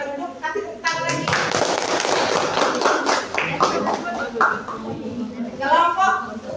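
Classroom students clap for a presenting group during a breathing-mechanism lesson, a dense stretch of overlapping claps and taps with voices talking and calling out over it.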